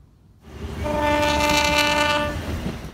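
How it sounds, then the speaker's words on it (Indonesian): A loud, sustained horn from a rescue locomotive blares with a rich chord of steady tones, swelling in and holding for about two seconds over rumbling train noise, as it comes to tow a stalled CC206 train. "nampaknya klakson lokomotif penolongnya sudah terdengar ya teman-teman"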